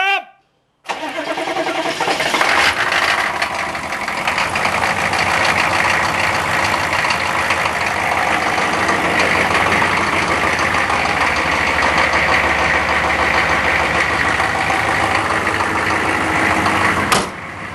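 A vehicle engine with a block heater cranks over on a cold New Year's Eve morning in Arizona, catching after a brief start and settling into a loud, steady, rattling idle that runs close and continuous for the rest of the clip.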